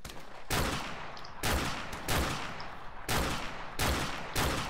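Loud automatic gunfire from the video game Call of Duty Modern Warfare Remastered comes in about five heavy bursts separated by short gaps, close and with no talking.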